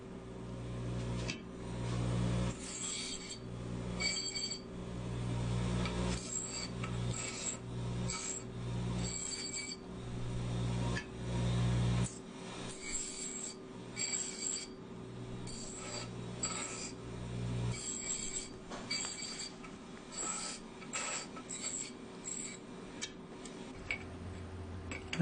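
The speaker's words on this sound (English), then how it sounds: "Now we're deburring the edges so it's not as sharp on all the pieces." Edges of freshly cut metal pieces are deburred for a golf cart trailer hitch, giving repeated rasping strokes and scraping clicks at close range with brief pauses and no talk.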